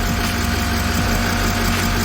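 A 2014 Chevy Express 3500 van with a 6.6L diesel idles steadily just after starting, a loud, close, low rumble with constant vibration and no voices.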